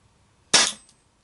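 A single sharp M17 pistol gunshot rings out loud and close against a quiet background, its crack decaying quickly within about a third of a second.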